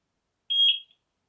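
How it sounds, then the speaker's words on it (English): A single short electronic beep from a Eufy security camera syncing, clear and fairly loud, lasting under half a second against silence. "Press the sync button until you hear the beep"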